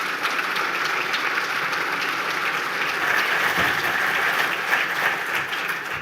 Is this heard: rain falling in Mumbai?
no